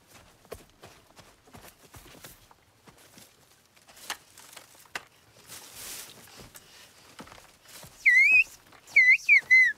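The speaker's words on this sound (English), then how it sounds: "we went to the region to see if they were really speaking such a whistling language" Whistled language heard at the end, a few sharp, loud, pitch-gliding whistles close by, following quieter footsteps and scattered shuffling noises.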